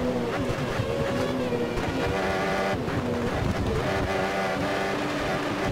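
A Formula 1 race car in the F1 2013 video game, on the Japanese Grand Prix circuit, accelerates with a continuous high-pitched engine whine that climbs through the gears, steady and close.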